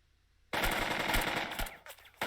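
Sustained machine-gun fire bursts out abruptly in the World War II tactical game Burden of Command, loud and dense for over a second before breaking into a few separate shots.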